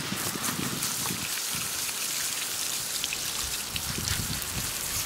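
Curly dock roots are rinsed under running water to wash off dirt, a steady close splashing and trickling hiss that runs evenly throughout with no talking.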